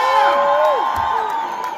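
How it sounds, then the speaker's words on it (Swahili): A live comedy crowd cheers and shouts for a performer, a loud, sustained roar of whoops and yells with no break. "Wapi kelele ya Dada Sara?"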